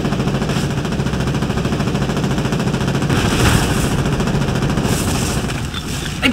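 Sustained gunfire from a Leman Russ tank in the game Foxhole, a dense, continuous mechanical rattle of rapid shots with a heavy low rumble, loud and close throughout, with no voices.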